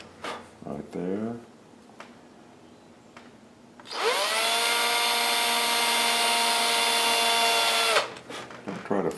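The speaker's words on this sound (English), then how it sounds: "I'm going to drill a hole" A small power drill bores a hole for a sunglasses wire, giving a bright, steady high whine for about four seconds with brief talk before and after it.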